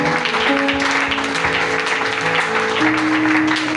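A church congregation at a Sunday service applauds and cheers for Jesus, their continuous clapping and crowd noise blending with held keyboard or organ notes underneath.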